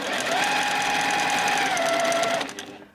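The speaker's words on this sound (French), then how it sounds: "Je fais un point arrière" A sewing machine runs a steady stitching whir while sewing a seam on a small hooded jacket for a 36 cm baby doll, finishing with a backstitch, then stops and fades near the end.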